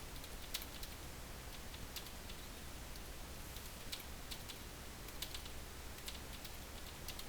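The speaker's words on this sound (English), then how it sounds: "You get to see my great typing skills here too." Typing on a computer keyboard during a PowerPoint 2013 demonstration: a steady run of light, quick key clicks with occasional louder strokes, fairly quiet and unaccompanied by any speech.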